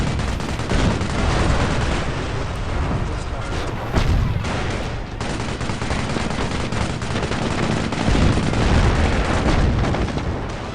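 Tanks and infantry fight a battle in the strategy video game CoH Mobile, with a UK Firefly tank and Commandos. Gunfire, cannon booms and explosions pile into one continuous loud roar for the whole stretch.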